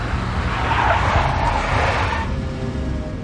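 Big black Mercedes in the Max Payne game on Android, its engine roaring with tires squealing in a loud, continuous skid that stays steady and close throughout, with no talk.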